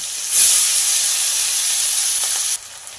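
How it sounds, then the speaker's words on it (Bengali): Chopped onion dropped into hot oil with fenugreek and slit green chilies, bursting into a loud, close, even hissing sizzle that holds steady and then drops off abruptly. "এবার এর মধ্যে দিয়ে দেব 2টো মাঝারি সাইজের পেঁয়াজ কুচি।"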